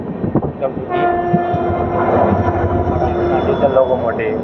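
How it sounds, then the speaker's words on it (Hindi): A diesel locomotive pulls its train past in the evening, heard close and loud with rumbling wheels and a sustained horn blast over the rolling clatter. "diesel locomotive"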